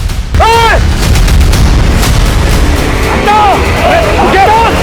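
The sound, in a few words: gunfire in a police shootout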